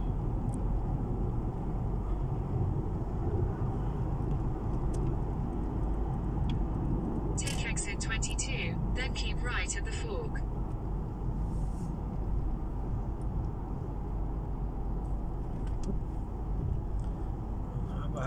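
Steady dense rumble of heavy road traffic heard from inside a moving car, continuous engine and tyre noise throughout, with a brief higher clattering burst partway through.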